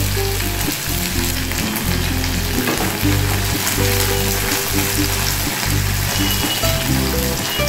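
Okra pieces frying in very hot oil, a dense steady sizzle and crackle filling the whole stretch, loud and close with no voices.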